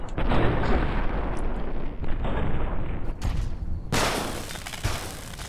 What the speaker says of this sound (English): That was like fully automatic explosions.